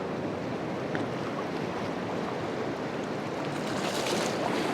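Waves break along a windy seashore, producing a constant, roaring rush of water that stays loud and close for the whole stretch, mixed with gusty wind noise and no speech.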